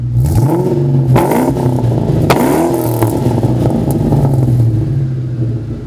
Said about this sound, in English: MagnaFlows have a nice deep tone at idle.